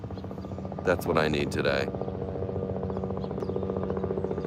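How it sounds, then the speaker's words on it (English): A tourist helicopter flies overhead with a continuous low rotor drone and hum throughout, partly under someone speaking briefly. "can we stop it with the tourism? The helicopter tourism."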